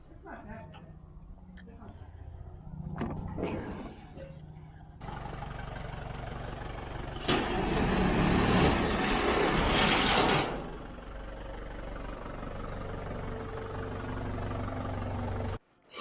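A farm tractor's diesel engine runs steadily at a metal pole barn build site, rising to a louder, rougher roar for a few seconds mid-way before settling back to a constant idle, with faint voices early on.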